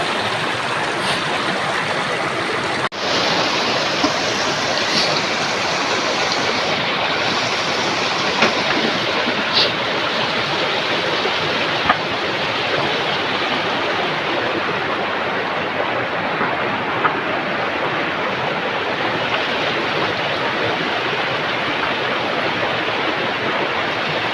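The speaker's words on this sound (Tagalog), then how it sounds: "umabot na ako sa sapa namin guys" Creek water rushes and flows in a steady, broadband wash, loud and close, with no pauses and no voices.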